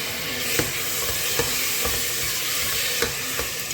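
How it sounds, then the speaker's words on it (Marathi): Masoor lentils sautéing in oil with tomatoes give off a steady close sizzle and frying hiss, with a few sharp scrapes of stirring and no voices. "दोन मिनटं मसूरला परतून घ्यायचं"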